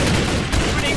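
Dense, continuous rapid gunfire fills a chaotic Minecraft roleplay battle, loud and close, with overlapping shots forming a steady barrage and a voice faintly underneath.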